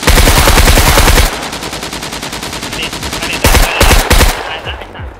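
Automatic machine gun fire in the survival shooter SCUM hammers out in fast, loud, close bursts: a long opening volley, a quieter stretch of scattered distant shots, then another sharp burst near the end.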